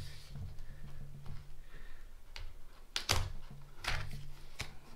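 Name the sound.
knife cutting into charger packaging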